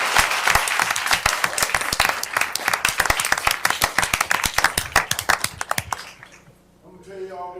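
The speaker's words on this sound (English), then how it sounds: "Let's give him a round of applause." A room of people at a school district board meeting clap together, loud and irregular for several seconds before tapering off, followed by a person speaking.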